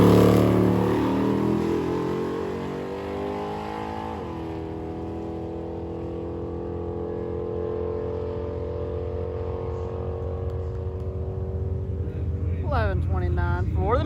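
A Hemi-powered Mopar drag car at a drag strip: a loud, steady engine roar that builds and revs with rising pitch, then surges again near the end, voices faintly audible beneath it.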